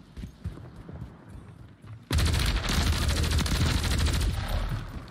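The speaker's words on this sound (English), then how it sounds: "Was that a laser gun or something?" Gunfire erupts suddenly in Modern Warfare 3 after a quieter stretch, a loud, dense burst of rapid shots that may come from a laser-type weapon and keeps going to the end.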